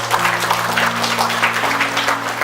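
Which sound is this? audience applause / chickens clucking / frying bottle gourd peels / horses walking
audience applause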